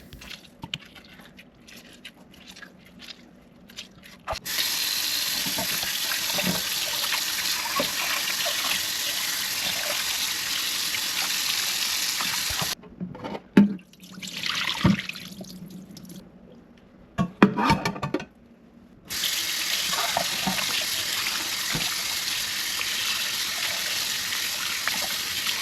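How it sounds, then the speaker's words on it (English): Tap water runs loudly over fish being washed with lemons in a kitchen sink for Jamaican brown stew fish, a steady close gush interrupted by a few pauses with splashes and handling sounds. "we're gonna wash the fish using 2 large lemons"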